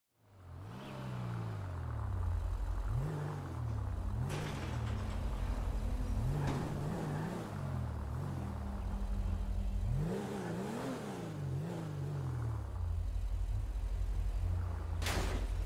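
A car engine in GTA 5 revs and accelerates repeatedly as it drives off, rising and falling in steady surges that run continuously at moderate loudness with no talk over it.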